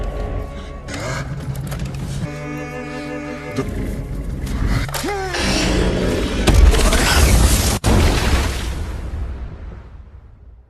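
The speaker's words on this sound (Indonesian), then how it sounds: "Cerita pun berakhir dengan sebuah ledakan besar" A big explosion kills a creature deep in a cave, a loud broadband roaring blast with rumbling debris that swells mid-clip, cuts sharply, then decays slowly into silence.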